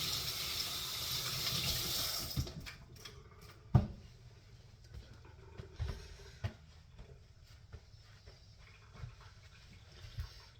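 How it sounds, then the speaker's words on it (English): Tap water runs for a couple of seconds while hands are washed in a kitchen, then cuts off, leaving faint clinks, taps and small handling noises in a quiet room. "wash my hands and wipe my tears"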